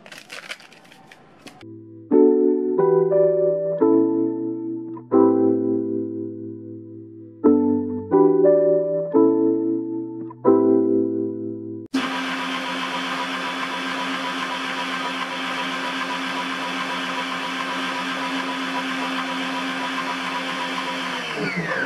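Synth-like tonal notes play in short bursts, then a loud electric mixer whirs steadily and close up for several seconds without pause, beating banana cake batter.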